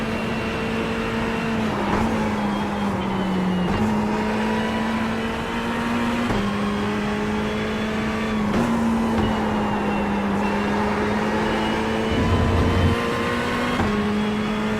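A Ferrari GT3 race car engine at Watkins Glen in iRacing drones steadily at high revs, its pitch stepping up through gear changes and dipping briefly on shifts, loud and constant throughout the lap.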